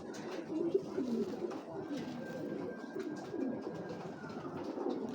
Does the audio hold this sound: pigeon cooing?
yes